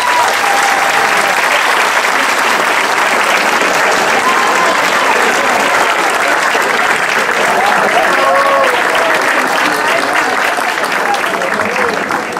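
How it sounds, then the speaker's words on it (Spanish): Loud, dense applause from a concert audience at a serenade-style vocal concert finale, continuous clapping filling the hall for the whole stretch with a few cheers mixed in. "Aplauso para ellas."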